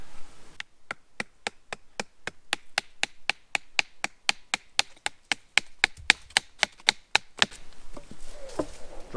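A blade is hammered into wood to carve a spatula at a bushcraft campfire: a long, steady run of sharp, close wooden knocks, about four per second, that ends in brief rustling.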